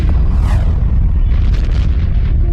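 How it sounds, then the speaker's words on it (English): A massive, deep explosion boom representing a star blowing apart, loud and sustained with rumbling low end and a hissing burst of debris across the whole stretch, no voices. "a massive star explodes, sending a lethal burst of energy rocketing toward our planet"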